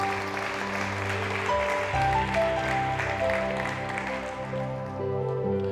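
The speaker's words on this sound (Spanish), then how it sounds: "Dale fuerte el aplauso al Señor Jesús." A church congregation applauding steadily for several seconds under sustained organ or keyboard tones, moderately loud and fading slightly toward the end.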